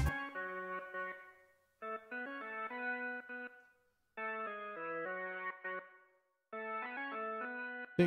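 Organ chords in a Cubase session with reverb added, sounding as three or four sustained phrases separated by short gaps, each tail ringing out softly, no talking.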